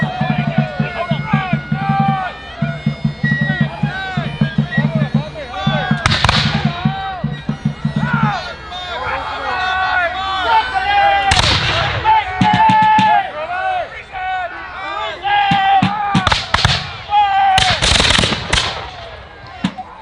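Musket volleys crack out at a historical rendezvous reenactment on the French Commons in Vincennes, sharp loud bangs scattered irregularly across the scene amid crowd noise and an announcer talking.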